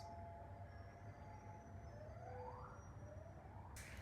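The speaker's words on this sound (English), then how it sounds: "What's with the sirens?" Sirens wail at a distance, their pitch sweeping up and down steadily under a quiet background hum.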